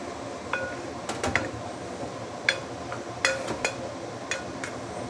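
Metal spoon strikes and scrapes against a rice cooker pot while cabbage rice is stirred, giving scattered clinks and taps over a low background rumble, close and moderately loud with no talk.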